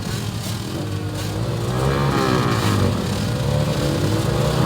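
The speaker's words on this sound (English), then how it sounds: "Hey, revs are up." Racing motorcycles idling and revving together on the starting grid, a dense, loud engine roar that swells and climbs steadily with no voices over it.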